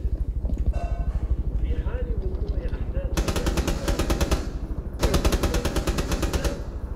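Two long bursts of fast automatic gunfire in a Rainbow Six Siege match, sharp rapid rattling close by, over a steady rhythmic thumping background with people talking throughout.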